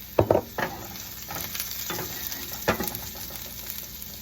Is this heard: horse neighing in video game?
no